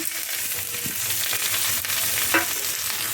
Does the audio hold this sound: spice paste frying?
yes